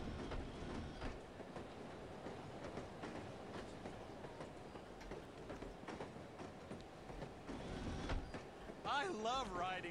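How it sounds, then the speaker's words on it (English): A train rolls along rails in the video game The Operative: No One Lives Forever, a steady rumbling clatter of wheels with faint rhythmic clicks, ending in a brief squeal. "I love riding the train."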